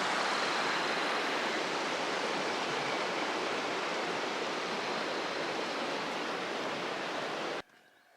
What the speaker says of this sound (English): This is Pass Creek. It flows into Jackson Meadows Reservoir